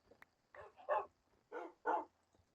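A Minecraft dog barks four times in two pairs, moderately close with short gaps between them, and there is no talking.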